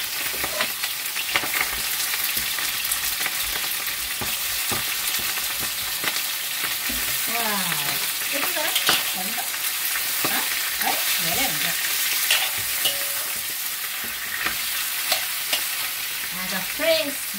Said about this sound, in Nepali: ल अब चाहिँ म यहाँ यो बङ्गुरको टाउको पकाउन थालेँ है